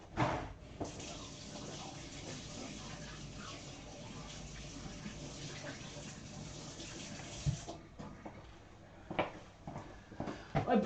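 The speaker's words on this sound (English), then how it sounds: "I'll just rinse my hands off." Water from a kitchen tap running into a sink while hands are rinsed, a soft steady stream for about seven seconds, then stopping, followed by a few quiet handling clatters and splashes.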